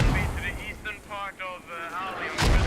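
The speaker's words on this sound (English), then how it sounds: "And they've started mortaring this target." Mortar rounds hit a target in a video game: a heavy boom at the start and another near the end, with a sustained tonal drone running between them.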